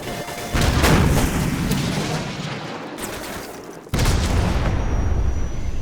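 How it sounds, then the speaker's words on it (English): A Stinger missile fired at a helicopter in Call of Duty 4 Remastered, with a sharp loud launch blast and roaring rush that decays, then a second abrupt booming burst amid ongoing battle noise. "So, grab another Stinger and fire again."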